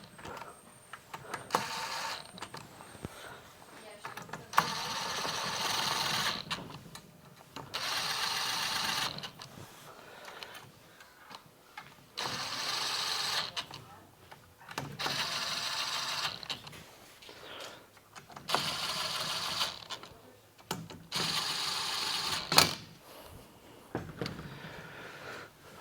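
A ratchet snugs up bolts on a Prinsu Pro roof rack mounted on a third-generation Toyota Tacoma, with repeated bursts of close clicking and rattling broken by short pauses and no talk.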